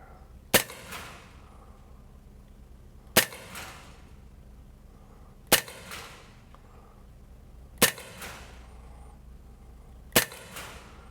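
A Sig Sauer 1911 Spartan blowback air pistol fires five sharp, crisp shots, spaced evenly about two to three seconds apart, on a range with quiet pauses between.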